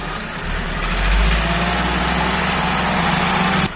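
A 2007 Toyota Corolla Verso 2.2 diesel engine runs steadily under load, a loud low rumble that swells slightly after the start and holds before cutting off abruptly near the end.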